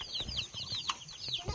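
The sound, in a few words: baby ducklings peeping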